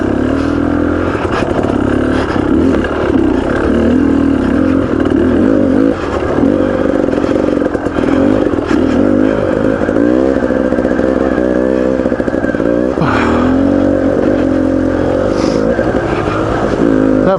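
Beta Xtrainer dirt bike ridden on the Rainbow Trail single track, its engine buzzing steadily and close by with repeated throttle rises and drops, plus faint clatter from the trail.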